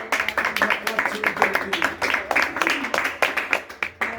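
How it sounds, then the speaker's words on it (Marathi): An audience clapping in honour of a young kirtan performer, a burst of uneven, fairly loud hand claps with a quick rhythm lasting a few seconds, close by, with no voices over it. "जोरदार टाळ्या वाजवून आपल्या हबप कीर्तनकार धनश्री तरडे हिचे एकदा जोरदार टाळ्या वाजवून"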